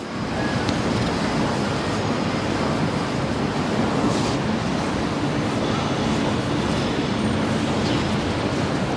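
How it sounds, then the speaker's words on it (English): Strong wind buffets the microphone on Pitt Street in Sydney's CBD, a constant loud roaring rush that never lets up. "I'm getting hit by the wind, so hopefully it's not annoying you too much on the video."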